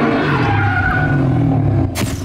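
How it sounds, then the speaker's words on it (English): Over a surround sound system, a car roars and skids with a loud, sustained engine and tire noise that cuts off abruptly near the end. "it was very easy to place the sounds of the car."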